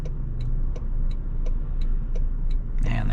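A 2026 Toyota Tundra pickup's engine drones steadily from inside the cab while driving, a continuous low hum with faint regular ticking, with no talk.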